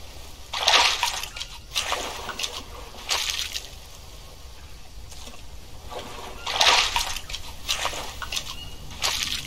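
Water splashes and sloshes in repeated bursts as a container is filled in the Green Hell survival game, several loud splashy pulses separated by quieter trickling, with no talk over them.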